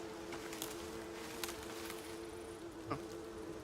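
Low, steady buzzing of bees in the survival video game Icarus, a faint continuous drone with a few soft taps and clicks over it and no voices.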